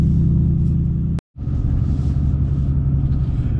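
A 2021 RAM 1500 truck with an aftermarket exhaust rumbles loud and close with a deep, throaty drone, breaks off briefly for a split second, then picks back up and keeps rumbling steadily as it drives.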